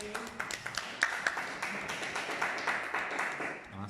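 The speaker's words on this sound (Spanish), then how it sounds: "Desde aquí le mandan sus compañeros un aplauso." Classmates in a Bible study class on Romans give a short, scattered round of applause. The individual claps are quiet and uneven, tapering off after a few seconds, and no one speaks.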